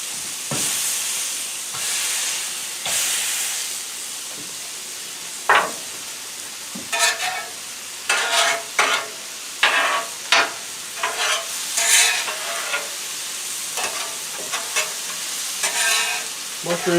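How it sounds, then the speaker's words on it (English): N.Y. strip steaks searing on a Blackstone griddle, a continuous close sizzle broken by bursts of louder crackling and spattering hiss as the meat is moved and pressed. "Getting a nice crust on them steaks."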